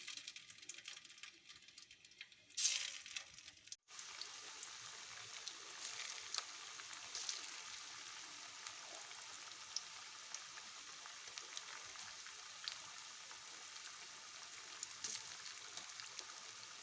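Marinated cauliflower pieces frying in groundnut oil, a steady soft bubbling sizzle that carries on throughout with a brief louder crackle near the start.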